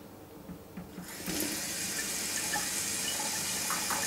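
Water begins rushing and hissing steadily about a second in and keeps flowing as a Junkers Euroline ZW 23 KE gas boiler is switched on and runs, heard close with no talking.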